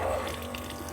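Tap water runs steadily in a converted school bus still under construction, a continuous close splashing flow for the whole second.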